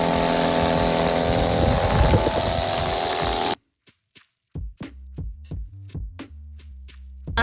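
A gas-powered string trimmer engine drones loud and steady at close range, then cuts out abruptly partway through, leaving silence broken by a series of sharp knocks and ringing tones.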